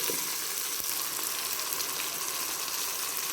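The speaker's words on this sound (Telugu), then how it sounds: "దోరగా వేగనివ్వాలి." Tomatoes fry in a pan for amaranth leaf biryani, giving a steady, close sizzle that holds evenly throughout with no talking.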